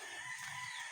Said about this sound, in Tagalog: Itali ko muna itong manok ko.